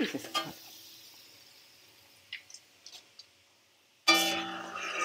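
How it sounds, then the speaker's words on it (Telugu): Roasted gram dal frying in oil for a flattened-rice poha mixture: soft sizzling and a few faint clicks of stirring, then a sudden louder burst of sizzle near the end. "ఇవి ఎక్కువ ఫ్రై కావద్దు, ఎందుకంటే మామూలుగా కొంచెం గోల్డ్ రావాలి"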